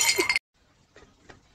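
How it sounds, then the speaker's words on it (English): A pot being smashed, a bright burst of crashing, clinking fragments up close, cut off abruptly, followed by a few faint scattered clinks of pieces settling. "Then God told Jeremiah to smash the pot."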